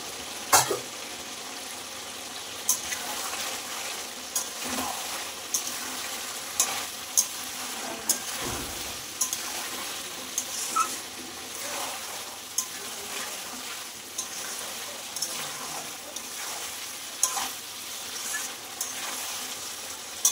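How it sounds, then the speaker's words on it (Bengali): Meat being sautéed kosha-style in a pan, with a continuous close sizzle broken by repeated scraping and tapping as it is stirred at a steady pace, without speech. "দেখো এদিকে প্রায় মাংসটা কষানো হয়ে এসছে, আর একটু হবে।"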